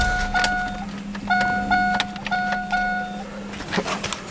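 A 1998 Pontiac Sunfire being switched off at close range, with electronic warning chimes beeping in short repeated bursts over a low steady hum and a few clicks as the engine shuts down.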